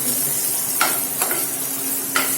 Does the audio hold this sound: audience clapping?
no